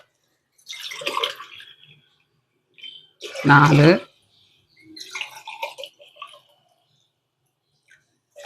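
Tumblers of water poured into a pot for making pongal, short splashing pours separated by pauses, with a voice counting between them.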